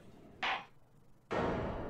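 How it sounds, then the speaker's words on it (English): A judge's gavel strikes twice in the video game The Great Ace Attorney Chronicles, one short sharp knock followed by a louder, longer hit that rings on, alone and close. "Did Ryunosuke get scared by the hammer?"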